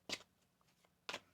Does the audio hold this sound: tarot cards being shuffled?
yes